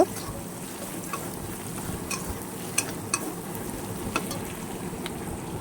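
Ginger and garlic fry in oil with a steady, close sizzle, broken by scattered sharp clicks and taps of stirring against the pan.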